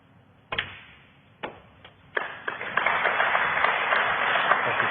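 A snooker crowd at the Australian Open breaks into applause at frame ball, starting with a few isolated claps that quickly swell into steady, sustained clapping from a moderately distant audience.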